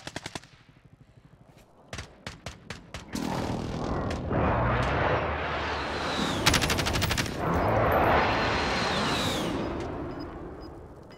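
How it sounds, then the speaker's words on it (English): Heavy explosions and rapid gunfire-like blasts from a friendly precision airstrike in a battle royale shooter video game, starting with sharp separate bangs and building into a long, loud, sustained rumbling barrage. "friendly precision airstrike inbound"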